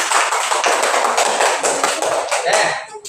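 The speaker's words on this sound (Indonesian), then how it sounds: "Tepuk tangan lebih meriah." A classroom of students breaks into louder, more energetic applause, with close, dense clapping that runs continuously and only thins slightly toward the end.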